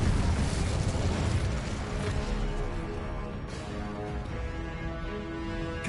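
Incendio fire spell from Hogwarts Legacy: a sustained, rumbling roar of flame that stays loud and steady for several seconds with no talk.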